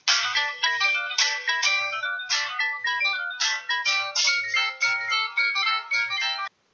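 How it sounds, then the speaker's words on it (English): A phone ringtone plays a bright, repeating melodic pattern of short electronic notes in steady rhythmic bursts, loud and close, for several seconds, then stops abruptly. "I was almost asleep when my phone rang."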